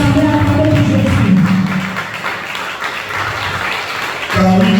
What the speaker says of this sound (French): Can we clap better for Jesus?